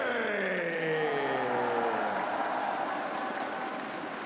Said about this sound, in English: One more round of applause for Blaze Blue Top 8.